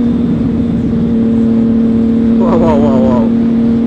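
Triumph Speed Triple 1050 motorcycle engine running with a steady low drone and a brief rising rev near the end, close and loud throughout.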